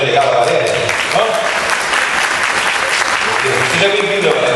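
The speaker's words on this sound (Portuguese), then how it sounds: "vamos dar uma salva de palmas para a delegada Valéria" An audience at a panel session applauding a delegate named Valéria, loud sustained clapping from a room full of people throughout, with a voice speaking over it.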